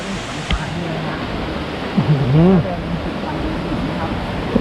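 A flowing forest stream beside a walking path near a cave, giving a continuous soft rushing wash throughout, while someone talks over it in the middle.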